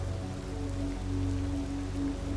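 Rain from the VRChat video game world, a steady, soft, even patter of falling drops layered over a low, constant hum, with no voices.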